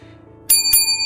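Two bright metallic bell dings, like a bicycle bell, ring a notification chime in quick succession over a low quiet background, each with a ringing tail.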